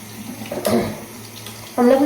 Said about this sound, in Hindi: इसका ग्लासेस भी धुल गए, जो कि मैं हर रोज़ धो देती हूँ